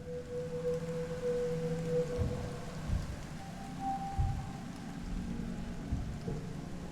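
Steady rain falls and thunder rumbles low in a stormy night scene outside a colony in the game I Was A Teenage Exocolonist, a continuous wash of rain broken by a few deep rolls.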